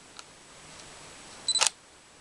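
Nikon D3000 DSLR shutter fired in bulb mode, a single brief, close mechanical click-clack against a quiet room hiss, preceded by a tiny faint tick.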